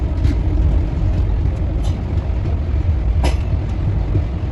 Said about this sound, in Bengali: আমাদের ট্রেন পৌঁছলো অবশেষে নবদ্বীপ ধাম। তো এখানে ট্রেনটা মাত্র 2 মিনিট দাঁড়াবে।